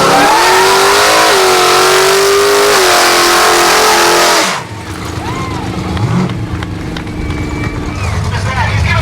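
A race car at Mountain Race Week, its engine screaming at high revs and climbing, then abruptly cutting off halfway through to a quieter idle and background rumble with crowd noise.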